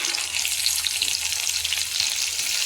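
Steady, bright sizzling of chopped tomato dropped into hot oil in a pan for paneer masala, a dense continuous hiss without pauses, loud and close.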